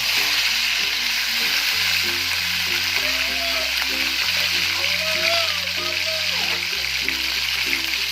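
Half a kilo of chicken frying in oil in a karahi for chicken Shinwari, a loud continuous sizzle and spatter set against a steady background tune, no clear talk.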